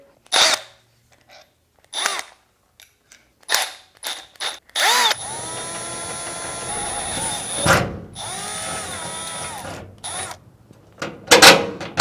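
A power drill revving in short bursts, then a longer sustained whir with pitch shifting under load, followed by more brief spins and pauses, while fitting a garage door quick release lock.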